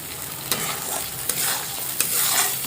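Chicken masala spices fry in oil with a close, continuous sizzle, stirred with three distinct spoon scrapes spaced through the sound.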